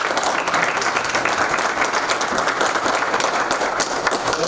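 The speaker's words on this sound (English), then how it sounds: "let's have a round of applause." Audience applause at a business talk, dense sustained clapping from a room full of people, even and loud throughout with no talk over it.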